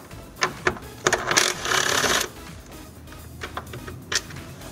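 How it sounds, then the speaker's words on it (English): A socket wrench clicks and clanks while a 10 mm bolt is loosened from the radiator fan of a Dodge Journey, with short metallic taps and a brief burst of ratcheting. "This looks like it's a 10 millimeter socket. So let's go ahead and remove that one quick now."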